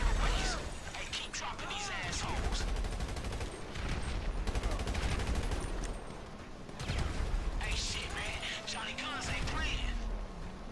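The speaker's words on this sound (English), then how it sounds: "Holy shit, who got the machine gun?" Machine gun fire in the GTA Online video game, rapid sustained bursts of automatic shots in several long volleys with brief pauses, loud and close, mixed with clattering impacts while players talk over it.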